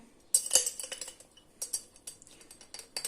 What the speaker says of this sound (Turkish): Ve şöyle karıştırıyoruz şekerinin ve kahvenin karışması için şekerimizi eritelim şöyle güzelce